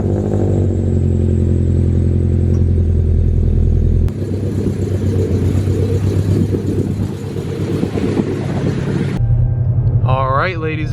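Scion FR-S car driving, a steady loud engine and road rumble filling the cabin throughout, dropping to a lower drone near the end as a voice briefly speaks.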